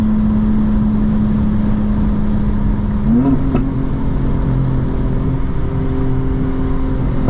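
A 900hp 2025 BMW M4 Competition xDrive on Pirelli tires and a partial ethanol blend accelerates from inside the cabin, a loud, steady engine drone rising in pitch midway through over constant road roar.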